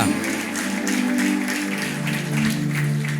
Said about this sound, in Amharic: ከፍ ያለ እልልታ ጭብጨባ ከዚህ በላይ ለጌታ።